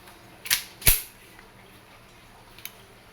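WE M92 silver full-metal airsoft pistol firing two sharp, close cracks in quick succession, followed by a fainter click a moment later in an otherwise quiet room.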